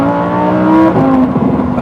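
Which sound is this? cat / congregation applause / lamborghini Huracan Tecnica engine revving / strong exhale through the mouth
lamborghini Huracan Tecnica engine revving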